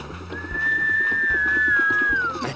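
One long, steady whistle, held for about two seconds before sliding down in pitch, loud and close over a faint background.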